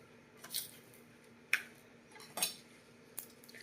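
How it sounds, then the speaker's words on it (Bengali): Spices and salt are stirred into an amla pickle, producing four sharp, quiet clinks of a spoon against a dish spaced about a second apart over a low background, with no talking. "এবার এটাকে ভালো করে মশলাটাকে আর নুনটাকে ভালো করে মিশিয়ে নেবো এর সঙ্গে"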